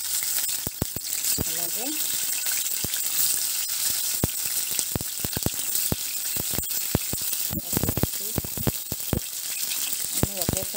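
Tomato pieces fry in about four tablespoons of hot oil for moong dal khichdi, a constant hiss and crackle with sharp pops and stirring clatter while someone speaks briefly.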